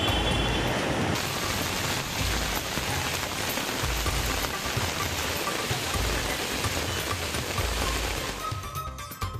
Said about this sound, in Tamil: திருப்பதியில் பலத்த காற்றுடன் கொட்டி தீர்த்த கனமழை.